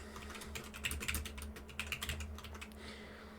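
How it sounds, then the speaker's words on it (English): Fingers tap quickly on a computer keyboard in irregular bursts of soft, close clicks, heard alone against a faint steady hum. "I'm just going to start typing."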